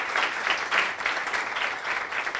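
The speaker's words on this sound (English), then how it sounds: "can we have one more round of applause for our speakers?" Sustained applause from an audience for the speakers at a science talk event, dense clapping that swells slightly, heard from within the room.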